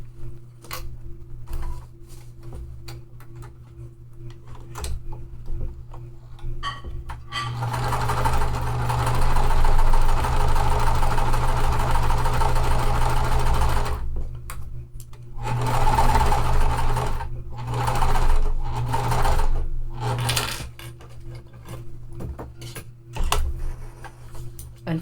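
A sewing machine stitches a quarter-inch seam through gray quilting cotton while piecing a mystery quilt block. Near, steady whirring runs stop and start in several bursts, with short pauses between them and no talking.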